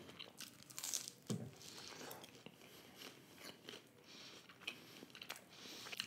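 Someone bites into and chews a crunchy cheese pizza up close, with repeated soft crunches and chewing sounds spread over several seconds at low volume.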